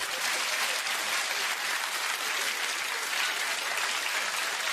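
A crowd claps steadily and densely throughout, a continuous wash of applause with no voices over it.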